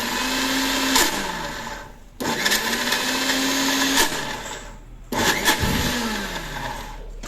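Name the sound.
kitchen mixer grinder blending fried gongura leaves for chutney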